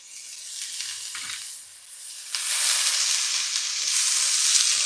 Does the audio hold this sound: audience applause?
no